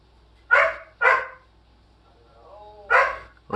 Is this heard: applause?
no